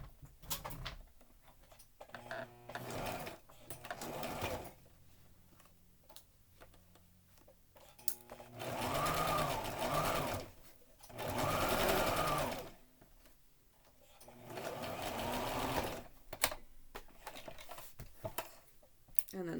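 A sewing machine stitches a fabric mask cover for Covid-19 care, running in several steady whirring bursts, with back stitching at the start and end of each seam and brief pauses and handling noises between runs.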